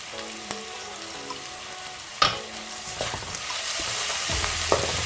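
Green pepper and other vegetables stir-fried in a wok, a dense steady sizzle with scraping tosses and a few sharp clacks of the utensil against the pan, close and continuous with no talk.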